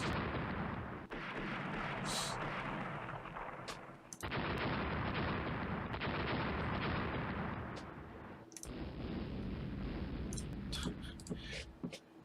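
Naval artillery gunfire from a Rule the Waves battle with French ships, a dense, continuous roar of heavy booms and rapid secondary gun bursts, loud and sustained with brief dips between salvos.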